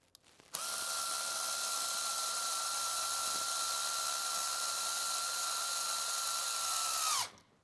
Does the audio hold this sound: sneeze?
no